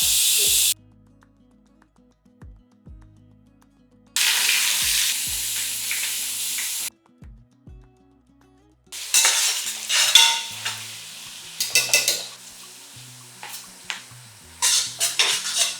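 Whole spices and bay leaves frying in oil for seeraga samba mutton biryani, crackling and sizzling in loud bursts separated by quiet gaps, with occasional clinks of stirring and no talk.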